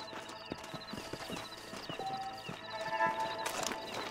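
Horse hooves clip-clop across ground in a Red Dead Redemption Wild West scene, a steady run of quiet, irregular knocks from several animals, with faint tonal game music underneath.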